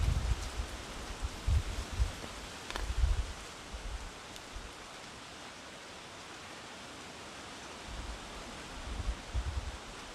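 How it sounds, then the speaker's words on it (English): Outdoor wind on a breezy day at a wilderness survival spot, a steady broadband rush with low gusty buffets rising and falling near the microphone across the span, with no voices. "We got a pretty good amount of wind today."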